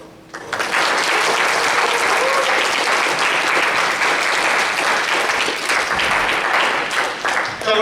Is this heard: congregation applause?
yes